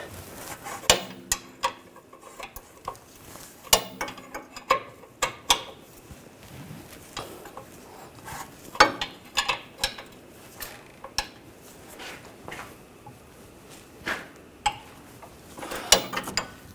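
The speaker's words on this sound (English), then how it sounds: "And tighten up the bottom bolt." Ratchet tightening the bottom bolt of a rear shock mount on a Volkswagen Tiguan (2009-2017), heard as close bursts of rapid pawl clicks with metallic knocks and pauses between strokes, no talk.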